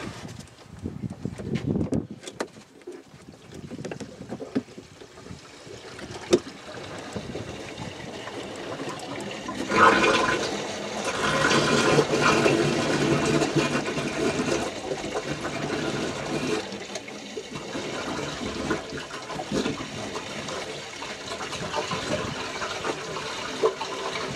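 Waste water rushes and gurgles out of a stopped-up RV sewer tank once the valve is pulled, a loud, steady draining flow that swells and continues alone.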